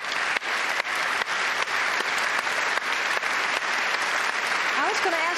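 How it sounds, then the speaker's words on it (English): Audience at an award ceremony applauding steadily and loudly throughout, a dense wash of clapping with a few sharp gaps, under faint speech. "I'm going to give them again a big applause, and I hope you will join me"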